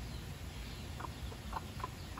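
A red junglefowl gives a few soft, short clucks spaced about half a second apart, faint and somewhat distant against a steady background hum.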